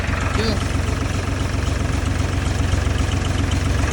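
A tractor-powered thresher runs loudly and steadily close by at night, a constant low rumble with rhythmic knocking.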